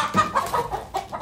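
A chicken at an auction gives quick, short clucks in a rapid uneven series, close and fairly loud over a brief moment.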